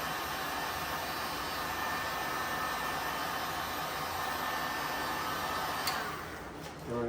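A heat gun blows hot air onto vinyl wrap on a Tesla front bumper, giving a steady, loud, close airy whoosh that runs without break and eases slightly near the end.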